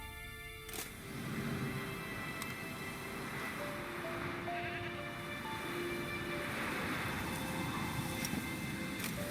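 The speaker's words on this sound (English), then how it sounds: "Looks like Eskel's goat rubbed against this tree" A goat in The Witcher 3 bleats in a series of wavering, tonal cries over a low rumbling background, moderately near and carrying across several seconds without talk.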